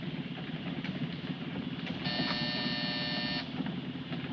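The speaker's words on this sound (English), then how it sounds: "Hit that buzzer." A steady electric buzzer sounds for about a second and a half midway through, a harsh tonal drone over a low rumbling engine background.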